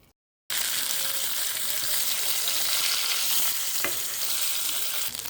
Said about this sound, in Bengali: যে আমার মাছগুলো ভাজা হয়ে গেছে